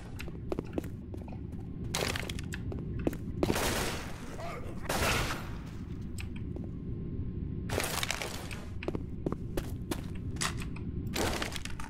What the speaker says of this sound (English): Deploying fire bullets!